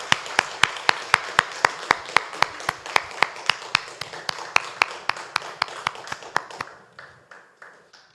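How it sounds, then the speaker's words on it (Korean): A church congregation at a Sunday daytime service claps in steady unison, loud crisp beats repeating for about seven seconds before stopping, leaving a faint room tail. "영광의 박수를 드립니다."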